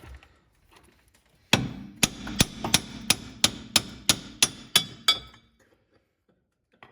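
Hammer blows on a loose car suspension wishbone during Hyundai Sonata strut and sway bar work: about ten sharp metallic strikes in a steady rhythm, loud and close, with no talk.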